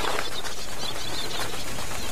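Birds flap their wings in an animated Doraemon cartoon, a dense continuous fluttering rush lasting a couple of seconds, fairly close and without speech.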